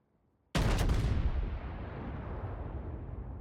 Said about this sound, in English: And there is the first salvo.